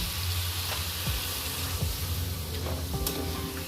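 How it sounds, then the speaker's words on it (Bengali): Cauliflower frying in a pan sizzles steadily with stirring scrapes and clinks as water goes in, a continuous close hiss with no voices. "এবার দিয়ে দিচ্ছি পরিমাণ মতো জল"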